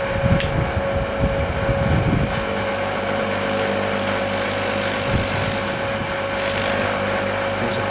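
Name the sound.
air pump running with pulsing flow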